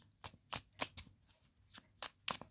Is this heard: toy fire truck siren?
no